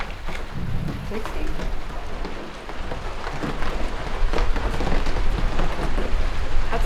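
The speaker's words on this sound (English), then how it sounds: "That's a lot of rain on our freshly poured apron." Heavy rain pours steadily onto a freshly poured concrete apron at a home build site in the Northern Rocky Mountains, a dense continuous hiss that grows slightly louder toward the end.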